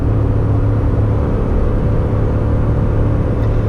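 Steady, loud cabin drone of an Acura NSX V6 with no turbos, held around 4,000 RPM in third gear, a constant low engine hum with road rumble and no voices.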